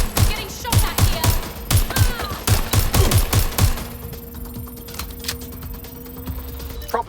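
Rapid gunfire in Watch Dogs Legion, a dense string of sharp close shots for several seconds with mechanical clatter and a faint voice, then a quieter humming stretch.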